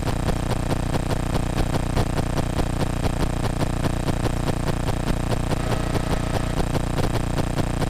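An aircraft piston engine in flight, leaned to peak, runs smoothly in a steady, continuous drone with an even pulsing beat throughout, loud and close as heard from inside the cabin.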